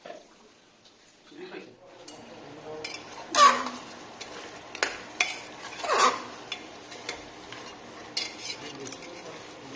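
Mutton pieces frying in a pan in a home kitchen for a Nepali-style curry, with a utensil scraping and clanking against the pan at irregular moments over a low sizzle. Faint voices sound in the background.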